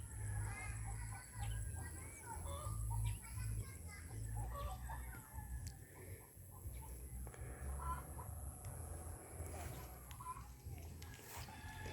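A large flock of farm ducks keeps up a busy, overlapping chatter of quacks and calls, close and steady, with human voices mixed in the background.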